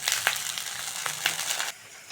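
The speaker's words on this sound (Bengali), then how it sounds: "পেঁয়াজের মধ্যে জল দিয়ে দেবো।" Water poured onto fried onions in a pan for green banana kofta curry bursts into a loud crackling sizzle with brief pops, then drops off sharply near the end.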